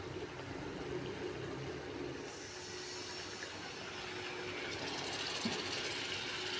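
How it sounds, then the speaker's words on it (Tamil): Tamarind solution made from kodampuli poured into a cooking pan with garlic, a steady sizzling wash of liquid hitting the hot pan that continues evenly and slightly brightens partway through. "இப்போது நம்ம எடுத்து வச்சுருக்கிற புளி கரைசல் சேர்த்துக்கலாம்"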